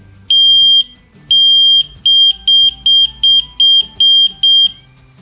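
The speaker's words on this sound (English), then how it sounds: "you try to produce 3 short beeps" An ELRO smoke alarm gives a string of short, shrill beeps while pairing with its app: one longer tone, a gap, then a steady run of about eight quick, evenly spaced beeps, loud and close, with no talk.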